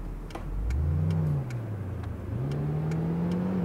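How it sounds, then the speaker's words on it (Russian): A Mercedes G-Class engine in the City Car Driving game revs up and accelerates, a steady droning whine climbing in pitch and holding, loud and continuous with a few faint clicks and no talking. "Ого, вот это у него разгон."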